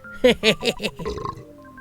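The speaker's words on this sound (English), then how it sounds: "The burp sounds really good." A short, low burp effect from the video game Earthbound, a gurgling series of pulses that trails off, loud and close.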